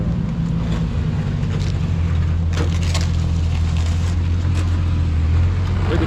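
A Nissan 350Z with a welded differential drives on city streets, its engine and road noise forming a loud steady rumble with a low drone throughout and no voices.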